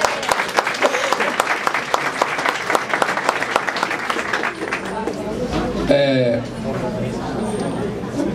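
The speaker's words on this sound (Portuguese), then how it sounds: "Então um aplauso para o Coletivo Alvorada." An audience at a political campaign meeting breaks into applause, a dense wash of clapping that runs for several seconds before thinning as a voice begins talking over the fading claps.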